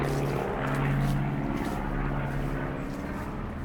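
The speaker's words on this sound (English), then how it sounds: "there's a plane going over." A propeller plane drones overhead beside a flint-and-stone building with slate roofing on a village walk at Rowlands Castle, a steady loud engine hum filling the whole stretch with no break.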